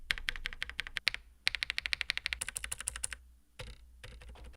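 A newly built mechanical keyboard gets a sound test: rapid bursts of crisp, close keystroke clacks in quick runs, separated by brief pauses, with no talking.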